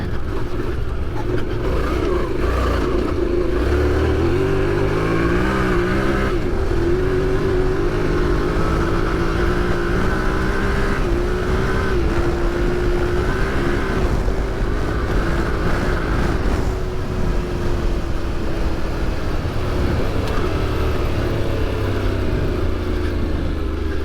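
A 2025 Yamaha Tenere 700 adventure motorcycle rides off-road on gravel, its engine droning steadily with rising and falling revs and pulls, loud and close throughout with constant wind and road noise.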